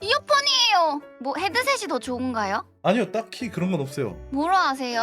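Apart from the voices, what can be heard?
No everyday noise stands out behind the speech.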